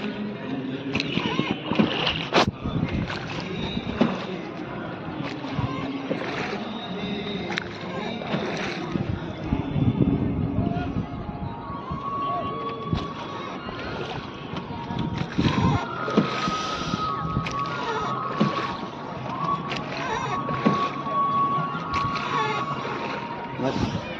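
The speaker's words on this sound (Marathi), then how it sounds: "तर फायनली आपण इस्कॉन मंदिरला चाललोय बोटीमध्ये" A boat carries passengers across floodwater toward the ISKCON temple at Alandi, with steady engine and water rush, occasional splashes and wind buffeting the microphone, while people talk throughout.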